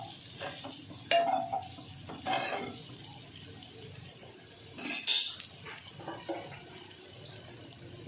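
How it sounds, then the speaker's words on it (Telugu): A spoon or spatula scrapes and stirs pepper powder through fried rice in a kadai, with several clattering metal scrapes over faint background sizzle and no talking. "వేసి ఒకసారి కలిపేసి ఇది ఒక పక్కకు పెట్టేద్దాం మనం ఇలా బాండీలోనే."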